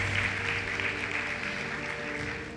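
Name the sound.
audience clapping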